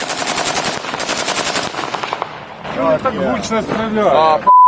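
Loud bursts of automatic gunfire fill the first couple of seconds. Excited voices then shout over the fading noise.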